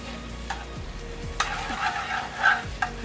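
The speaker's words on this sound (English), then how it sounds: "I'm going to gently stir the butter into the sauce" A spoon gently stirs butter into a Marsala wine sauce in a pan, giving soft scraping swishes and a low sizzle, with a few brief louder scrapes and clinks, close and alone without talk.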